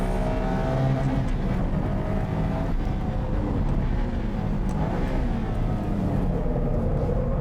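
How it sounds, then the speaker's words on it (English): A Nissan Skyline R34 race car on a circuit holds a loud, continuous engine roar, close and sustained, with gradual rises and dips in pitch as the throttle is worked, and no voices over it. "この車ね、パワーかけるとウィーって回ってってくれるんだけど"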